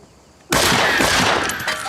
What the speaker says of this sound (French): ce sont des balles au chloroforme du docteur Placenta